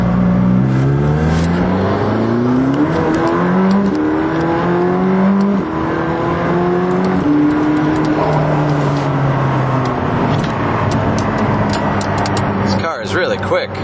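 McLaren 620R accelerating hard on the road through repeated upshifts, its engine note climbing in rising sweeps and dropping at each gear change, loud and close from inside the car, with a voice speaking over it near the end.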